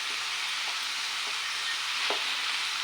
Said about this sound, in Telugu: మొత్తం బీట్రూట్ అంతా వేసుకొని బాగా కలుపుకోవాలి